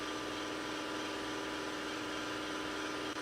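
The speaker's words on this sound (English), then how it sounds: "Sorry about the noise from the air compressor" An air compressor runs steadily throughout, a loud continuous mechanical drone that never lets up, with no talking over it.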